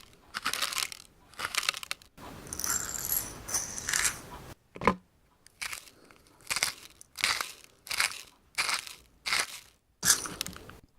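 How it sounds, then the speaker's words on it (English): A salt grinder crunches in about nine close, evenly spaced bursts, each a short dry grinding rasp separated by brief pauses, with no talking. "Salt grinder, there you go."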